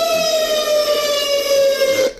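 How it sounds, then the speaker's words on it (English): An emergency vehicle siren wails steadily and loudly, a sustained high tone with bright harmonics holding for about two seconds before cutting off abruptly. "That fuckery siren is just always ready to go"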